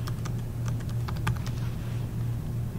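Keystrokes on a computer keyboard as a password is typed, a quick irregular run of light clicks over a steady low hum, close and alone with no voices.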